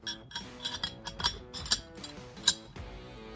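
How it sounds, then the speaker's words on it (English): A Glock barrel is set back into the slide during reassembly, giving light clicks and metallic clinks in a short close sequence, with one sharper clink near the end and no talk. "To reassemble the firearm, it's very easy. First thing you want to do is put your barrel back in,"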